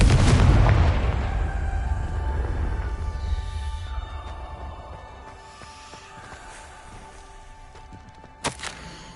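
A Confringo spell bursts in a booming explosion in Hogwarts Legacy. The blast is loud up front, then fades into a long rumbling decay, and a sharp crack sounds near the end.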